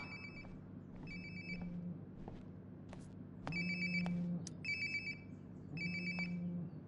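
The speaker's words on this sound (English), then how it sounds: "Sounds like my phone is definitely nearby." Phone ringing nearby in the video game Life is Strange: Before The Storm, a repeated electronic ring in short bursts over a low ambient hum, getting a little louder partway through.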